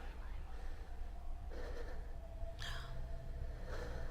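Heavy, intense breathing in the dark fantasy video game Hellblade, with gasps and sighs recurring across the clip alongside soft whispers, heard over a continuous low ambient game drone.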